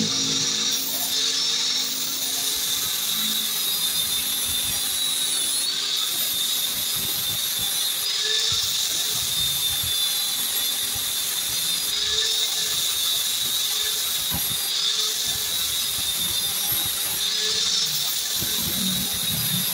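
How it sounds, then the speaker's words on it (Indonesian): An angle grinder smoothing metal while a seal-fitting tool for motorcycle shock absorbers is made, a continuous high whine with rhythmic pauses and scraping, moderately loud and steady throughout. "Oke, kita gerinda sampai benar-benar halus"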